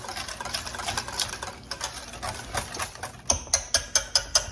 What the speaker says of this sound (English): So give it a good whisk.